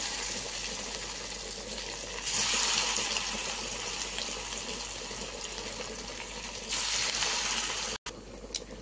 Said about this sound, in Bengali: এবার আমি শুরু করে দিলাম পকোড়া ভাজতে